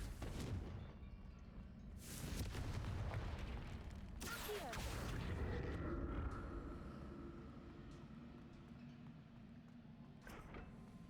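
Confringo explosive spell blast in Hogwarts Legacy: two heavy booming impacts with rumbling debris, followed by a sustained crumbling, grinding rumble that slowly dies away, then a faint closing thump.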